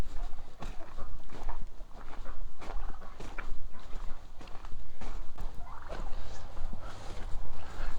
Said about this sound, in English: Turkeys need to be fed.